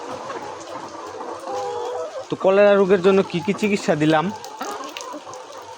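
Layer hens on a poultry farm, recovering after a cholera outbreak, give a short burst of loud, nearby clucking and squawking calls in the middle of the clip while someone talks over the flock.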